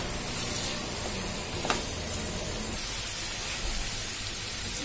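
Roughly chopped tomato going into a pan for a Telangana-style whiskey chicken curry, with a dense, even hissing sizzle that carries on steadily, close and fairly loud.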